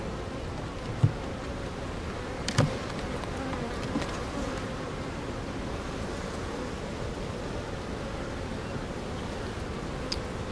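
Honeybees hum steadily in an opened hive during a brood inspection, a dense continuous buzz close by with a few faint knocks and clicks from handling frames.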